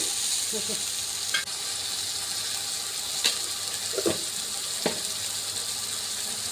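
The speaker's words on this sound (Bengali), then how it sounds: "সবগুলো দিয়ে দিলাম, ভালোভাবে কষিয়ে দিচ্ছি" Ginger, onion, garlic and cashew paste sautés in a pan for an egg korma, a soft continuous sizzle broken by a few distinct scrapes and clicks of stirring.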